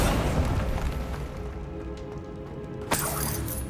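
Bombarda blasting spell in Hogwarts Legacy going off as a loud, close boom that rumbles and decays, followed by a sharp crack with crumbling debris near the end.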